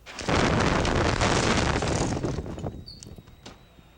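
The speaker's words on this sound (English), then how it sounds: "This is video from the town of Westport this morning where an explosion was caught on camera." Garage explosion in a Westport town, set off when carbon monoxide from a car ignited: a loud broadband blast with a sustained roar that fades over a few seconds, followed by faint debris and crackling.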